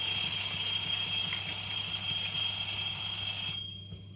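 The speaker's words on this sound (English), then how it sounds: "That was a timer just so I remember to check on the what's the name." A kitchen timer going off while beef Wellington is cooked sounds as a steady, piercing electronic alarm tone that holds for several seconds and then cuts off abruptly, leaving a quiet kitchen.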